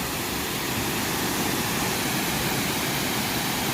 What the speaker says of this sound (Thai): ตรงนี้คือไฮไลท์ของน้ำตกเลยนะครับ